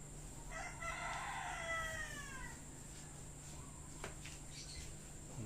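A rooster crows once in the distance, a drawn-out call over a steady hum, followed by faint clucks and scattered farmyard sounds on a backyard free-range chicken farm.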